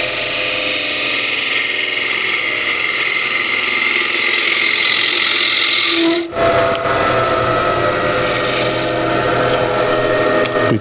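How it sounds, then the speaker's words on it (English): A wood gouge scrapes steadily against a cross-grain wooden box spinning on a lathe, a loud, continuous rasping hiss that breaks briefly and resumes with a brighter tone. "Now I can only go so far with this gouge"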